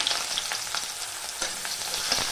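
Chopped onion crackles and hisses in hot mustard oil with spices, a dense continuous sizzle close up with a few faint stirring taps and no voices.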